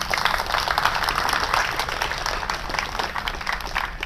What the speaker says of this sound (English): So give yourself a round of applause for showing up.